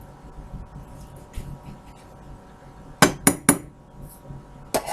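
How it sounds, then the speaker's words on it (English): A metal spoon clinks against a pot while scooping out sauce, three quick sharp taps in a row and then one more, over a faint steady hum. "spoon in there and scoop out as much sauce as you can."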